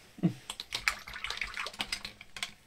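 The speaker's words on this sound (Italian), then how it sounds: "come sentite il rumore dell'acqua" Paintbrush rinsed in a jar of water while painting with Lefranc & Bourgeois Flashe vinyl paints, giving a close series of small splashes and clinks in an irregular rhythm, with faint background noise.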